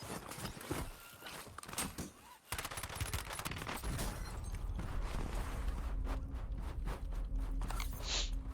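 Gunfire in Call of Duty Warzone during a collegiate national championship match, rapid bursts of shots and clattering footsteps at moderate distance, with a brief lull before the firing resumes densely.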